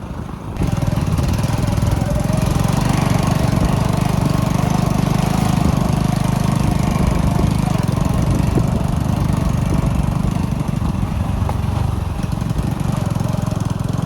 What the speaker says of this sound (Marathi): आता चालू आहे आम्ही खड्ड्यात आपटत